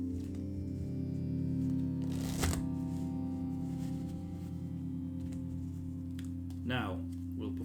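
Playing cards riffle-shuffled during a sleight-of-hand card trick, a brief crisp burst of fluttering card riffle around the middle, over a steady low hum with a short voice near the end.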